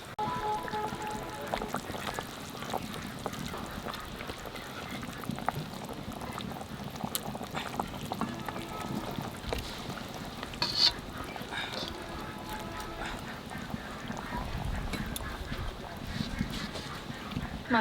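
Hilsa fish going into a boiling potato curry broth for Bengali ilish macher jhol: quiet bubbling and simmering with soft stirring and liquid movement, close up and steady, a few sharper clinks along the way.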